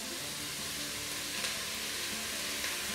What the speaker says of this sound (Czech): A zase zhruba 2 minuty necháme restovat.